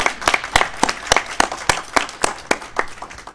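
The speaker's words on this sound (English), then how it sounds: "I feel like that deserves a round of applause for Dr. Phelps." Sparse, steady clapping from a small audience at a school district board of education meeting, with individual claps landing at an even, fairly quick rhythm and no voices over them.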